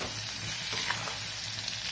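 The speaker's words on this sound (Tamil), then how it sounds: "இது பாருங்க நல்லா அப்படியே இந்த எண்ணெயிலேயே கத்திரிக்காய் வதங்குதுங்க பாருங்க" Eggplant sautéing in oil in a pan for a Chettinad-style oil eggplant thokku, a steady close sizzle and crackle with faint stirring scrapes and no voices.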